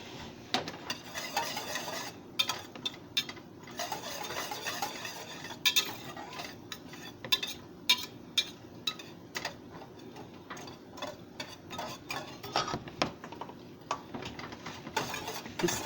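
Date filling being stirred in a pot, a spoon scraping and tapping against the pan in irregular light clicks and knocks, fairly quiet, with no talking.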